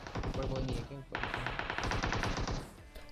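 Rapid automatic gunfire in PUBG Mobile, a fast rattling burst that pauses briefly near one second and then resumes in a steady, dense stream, fairly faint overall.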